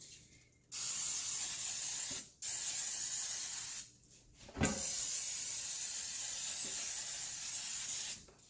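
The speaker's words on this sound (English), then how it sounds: "you want to go ahead and spray it again" Several long hissing bursts of cooking oil spray onto food in an air fryer basket, each lasting a second or more, with short pauses between, close and fairly loud.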